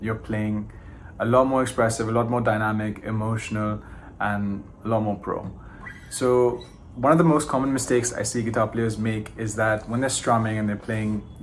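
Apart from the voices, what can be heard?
No everyday noises stand out.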